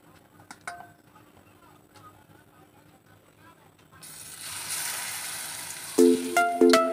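Gram flour batter with salt, turmeric and chili powder coats pumpkin pieces dropped into hot oil; a quiet stretch gives way midway to a steady crackling sizzle, followed near the end by a few bright clinks of utensils.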